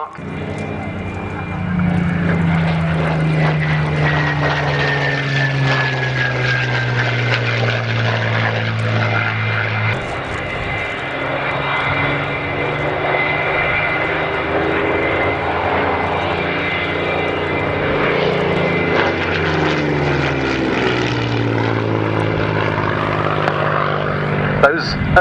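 A Merlin-engined Seafire propeller fighter flies past at an air display, its loud, steady engine drone filling the whole stretch with a rising and falling pitch as it passes, and a voice talks over it.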